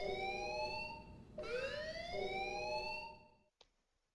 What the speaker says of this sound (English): the alarm is kind of a tell on its own